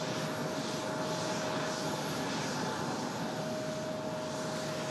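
A fixed-wing airliner departs Raleigh-Durham International Airport, its engines producing a steady, dense roar with a constant hum through it, unbroken and without voices.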